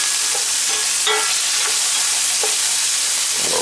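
Onions are tossed around in oil and burger drippings in a hot cast-iron skillet, giving a loud, steady sizzle with occasional soft scrapes and tosses; no speech.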